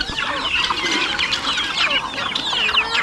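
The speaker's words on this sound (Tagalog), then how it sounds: "Dalawa na lang yung natira sa aming mga lalaking manok dito na kubra." Roosters kept at a Filipino rural home cluck and call continuously, several birds close by with overlapping squawks and chatter and no talk over them.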